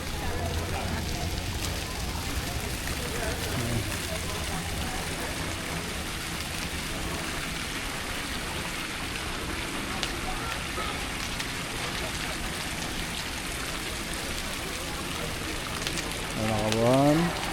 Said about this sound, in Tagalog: Medyo malakas-lakas ang ambon.